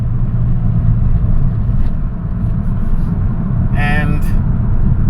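A 2009 Honda Fit, which has a fault code, accelerates with a loud, steady engine rumble that fills the whole stretch. A brief higher tone rises near the end.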